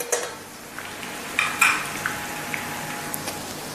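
Whole spices and green chillies sautéing in a pan for fish biryani: a soft continuous sizzle with a few sharp utensil clinks and scrapes against the pan.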